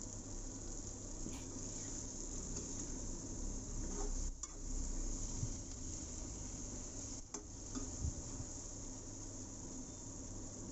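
A spoon stirs mutton curry with drumstick and cashew, seasoned with salt and chili, in a pan, producing a continuous low sizzle with occasional soft scraping strokes against the metal.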